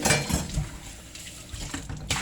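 Peeled cocoyams are rinsed under running water, giving a short, soft wash of splashing with a few light knocks, close and fairly quiet.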